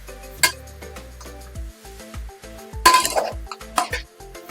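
Metal spoon scraping and clinking against a pot while mutton with onions is stirred for mutton kulambu, sharp clanks at irregular intervals over a faint background sizzle.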